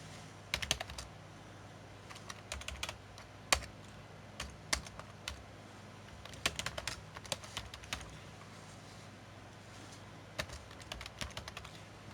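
Keys clack on a computer keyboard in quiet, irregular bursts of quick strokes separated by short pauses, close and fairly soft, with no voices.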